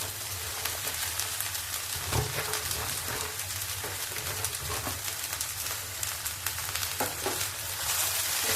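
Onion frying with ladies finger and cucumber in a pan makes a dense, steady crackling sizzle up close, with occasional stirring scrapes and no voices.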